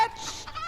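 A few short clucks from chickens, close and fairly clear, in one brief burst.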